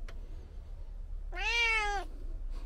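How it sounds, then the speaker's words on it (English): A single clear cat meow rises and falls for about half a second, close and fairly loud against a quiet, low background hum inside a parked van. "My cat is always talking."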